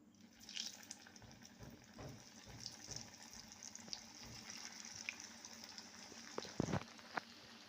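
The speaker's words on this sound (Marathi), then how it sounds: "आपलं तेल आता पूर्ण तापलेलं आहे। त्यात आपण आता आपल्या वड्या तळून घेणार आहोत।" Coriander vadi (kothimbir vadi) fry in hot oil with a soft, steady hiss and scattered small crackles and pops, quiet and fairly close.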